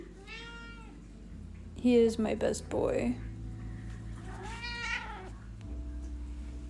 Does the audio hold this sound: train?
no